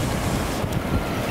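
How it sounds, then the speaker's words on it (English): Strong coastal wind at Tofino buffets the microphone in loud continuous low rumbles, with surf-like roar beneath and no talk. "Sorry about the wind."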